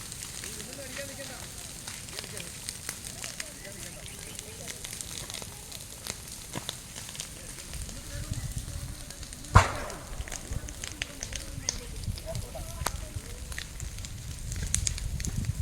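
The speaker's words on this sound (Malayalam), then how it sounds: "ആളുകൾ തീ അണയ്ക്കുന്നുണ്ട്" A large fire burns through a plantation, giving a low, steady crackle and rustle with scattered snaps and one sharp pop, while faint voices murmur in the background.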